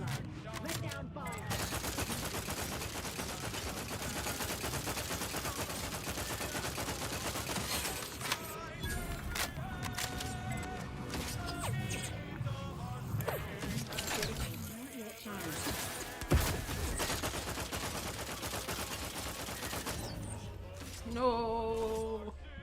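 Dense, continuous video-game gunfire barrage with bursts and mechanical clatter filling the soundscape, loud throughout with a brief dip near the middle, and a voice speaking at points over the din.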